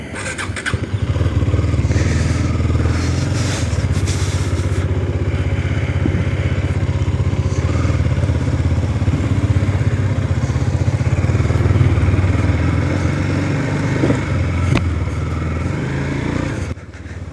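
A KTM Duke 250 motorcycle engine runs steadily up close, a loud, continuous low throb with mechanical clatter, holding an even idle-like drone for the whole stretch with no voices.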